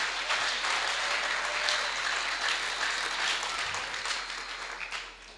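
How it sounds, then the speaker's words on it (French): Loud, dense applause from an audience for a couple at a couples debate event, a sustained wash of clapping that holds steady and then gradually fades toward the end. "On peut applaudir très fort pour le couple."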